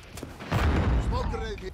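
A burst of light machine gun fire in a video game crackles loudly for about half a second, followed by faint electronic tones and background game sounds.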